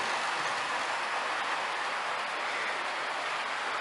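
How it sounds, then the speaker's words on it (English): Model railway trains run around a layout with upper lines and a new viaduct, four trains going at once, making a steady, dense rolling rush with no talking. "I've only got two of the lower trains running today and two of the upper trains"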